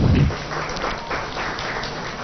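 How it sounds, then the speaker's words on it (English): Applause from an audience at the launch of the Telangana State Robotics Framework, opening with a louder burst and settling into a steady, slightly distant patter of many hands. "A round of applause, please."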